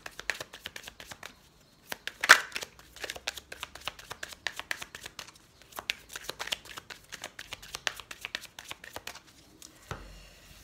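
Oracle cards are shuffled by hand in quick, uneven bursts of papery riffling and slapping, close and fairly soft, with a short pause near the end.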